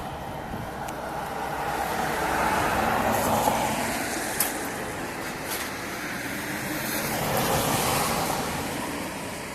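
Cars pass along a road in Tampere, their tyre and engine noise swelling and fading in two broad waves, moderately near and without talk.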